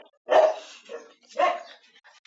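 A dog in the Roblox game Piggy gives two short, sharp barks with a faint yip between them, close and alone against near silence.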